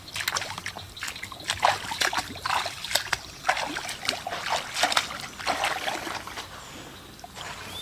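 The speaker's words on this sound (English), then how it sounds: "So now I'm going to go put these stakes in the water" Wooden stakes pushed into shallow water while setting a fishing trot line, giving repeated splashes and sloshing trickles at close range, steady and fairly loud throughout with no talking.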